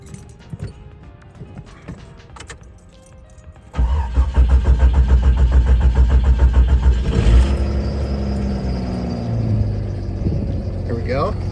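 An old, slow trail-rig car cranks for a few seconds, then the engine catches and settles into a loud, steady idle right up close, with a little talk in the background.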